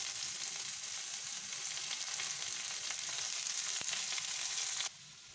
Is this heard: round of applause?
no